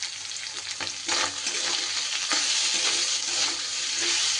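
Fish sizzling and frying in a pan with onion, garlic and a little turmeric, a steady crackling hiss with occasional stirring scrapes, close and fairly loud with no talking.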